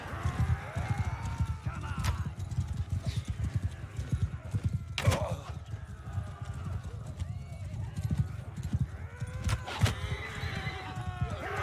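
Horses in the video game Mount & Blade 2: Bannerlord gallop with a dense, continuous clip-clop of hooves, broken by several sharp neighs and whinnies over the din of battle.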